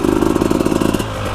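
A KTM 300 two-stroke dirt bike engine revs in swamp mud with a loud, close, rapid pulsing rasp that holds for about a second, then drops to a lower, softer drone.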